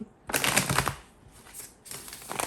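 A Villains tarot card deck is shuffled up close, with two crisp riffling bursts of flicking cards split by a brief softer pause.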